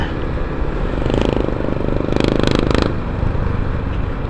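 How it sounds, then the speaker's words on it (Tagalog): A steady engine drone runs throughout, heard from inside the vehicle, with a few brief rattling surges partway through. "nag-ingay yung makina ko ka Sherwin, umangal."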